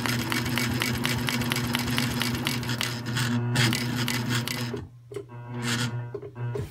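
A Sailrite 111 sewing machine topstitching through thick layers of material, its motor humming steadily while the needle punches a fast, even rhythm. Loud and close, with a short pause and a restart near the end.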